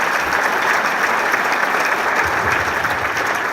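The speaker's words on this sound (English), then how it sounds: "I think we can applaud that." Sustained audience applause at Marion, Iowa's 2019 State of the City address: a dense, even roar of many hands clapping from a large crowd, steady throughout with no talking.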